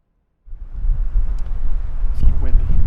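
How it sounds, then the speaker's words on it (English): Steady low rumbling mountain wind buffeting close to the microphone, starting abruptly after a short silence and continuing with gusty swells. "It's windy."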